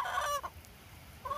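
Free-range backyard chickens cluck on a rainy homestead, two brief bursts of nearby clucking separated by a quiet pause over faint background noise.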